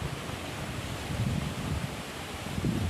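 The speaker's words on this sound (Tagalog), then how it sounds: "grabe ang hangin" Strong wind roars continuously against the microphone, a heavy rumbling gust noise with no voices.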